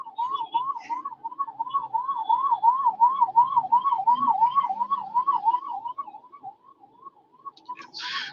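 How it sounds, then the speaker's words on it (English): A passing ambulance siren wails in a fast rising-and-falling pattern, steady and fairly close at first, then fading as it moves away. "Let me pass this ambulance first."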